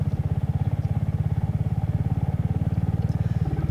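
A Royal Enfield Hunter motorcycle on the road toward Sandy Bay, its single-cylinder engine thumping in a fast, even pulse, close and steady with no talking.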